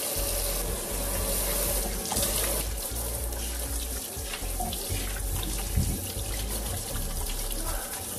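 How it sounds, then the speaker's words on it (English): Tap water runs steadily into a kitchen sink while hands are washed, a close continuous splashing with small shifts as the hands move under the stream, no talking over it. "I'm gonna wash my hands."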